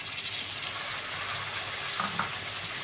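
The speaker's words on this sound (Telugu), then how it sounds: "ఇందులో ఒక పెద్ద సైజు టమోటా తరుగు వేసుకుందాం." Chopped tomato dropped into a hot frying pan, a steady soft sizzle and crackle throughout, fairly quiet and close, with a couple of faint stirring clinks near the end.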